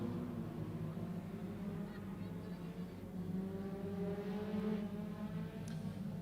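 A 2.1 modified saloon race car laps an oval track at a club meeting, its engine a steady, fairly faint drone heard from a distance with no sharp peaks.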